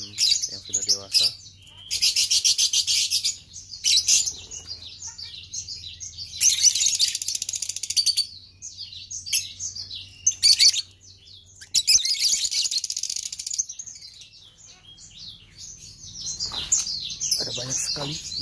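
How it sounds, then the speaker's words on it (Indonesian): Many lovebirds in a breeding aviary chirp and tweet in dense, shrill bursts, close and busy, with a low hum underneath. "Ada banyak sekali di sini jumlah lovebird-nya."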